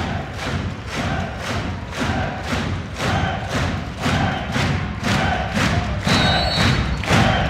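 Crowd at a women's Bundesliga volleyball match between Schweriner SC and Dresdner SC, cheering loudly with rhythmic thunderstick thumps roughly twice a second, steady and close, with no clear talk.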